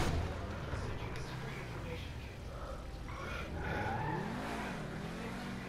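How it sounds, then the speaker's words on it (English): A car in Grand Theft Auto V revs and grinds in reverse, a loud, continuous engine roar with tire noise that swells near the end, while a person talks over it. "See if I can back this car up."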